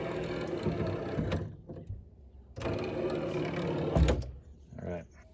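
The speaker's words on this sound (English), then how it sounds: "So this motor sounds a little worse for the wear than that one" Pop-up headlight motor on a worn C4 Corvette: a grinding, whirring motor hum that runs in bursts of a second or two with pauses between, close up and moderately loud, with a knock near the end.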